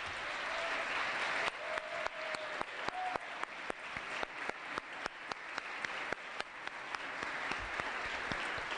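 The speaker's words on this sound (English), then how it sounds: "Why don't we give a big standing round of applause here to your Speaker of the CLYLP Assembly, Christian Garcia." An assembly audience at a youth leadership event gives a round of applause, dense clapping that steadies into distinct individual claps near the microphone, with faint whoops early on.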